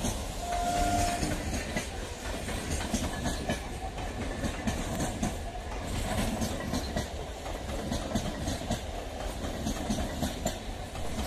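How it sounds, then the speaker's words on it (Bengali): Down Ranaghat–Sealdah local train pulling out of Kalyani station toward Kanchrapara, a steady loud rumble of wagons and wheels throughout with a brief horn tone near the start. "31622 down Ranaghat Sealdah local Kalyani rail station ছেড়ে পরবর্তী রেল স্টেশন কাঁচরাপাড়ার দিকে যাচ্ছে"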